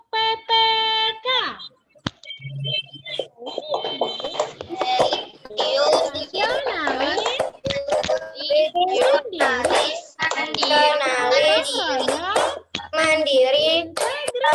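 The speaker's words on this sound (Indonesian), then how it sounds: "Ibu mau dengar dulu anak-anak Ibu melakukan tepuk PPK" Schoolchildren in a fifth-grade class perform the PPK clapping chant together, sharp claps punctuating their rhythmic group chanting. Voices and claps alternate in quick bursts, close and lively, after a brief opening tone.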